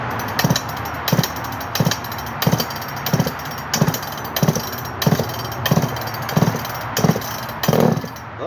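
A Poulan 245A chainsaw with a stock stack muffler pops in a steady, evenly spaced rhythm of roughly two beats per second over a constant noisy background, close and fairly loud.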